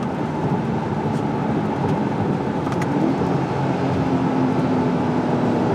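A C8 Corvette drives on a cold, rainy, wintry day, a continuous low engine and road drone with tire hiss on wet pavement, steady and close throughout.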